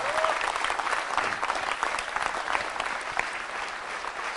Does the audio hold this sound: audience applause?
yes